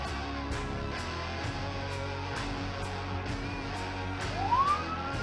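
A police car siren wails faintly in the distance behind steady road and engine hum inside a vehicle, with one brief rising siren sweep near the end.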